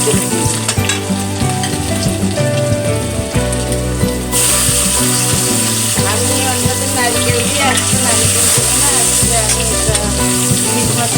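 Garlic frying in hot oil after fish has been fried, for a hilsa fish head and taro greens dish; a loud, continuous crackling sizzle with stirring scrapes, steady and close, no voices.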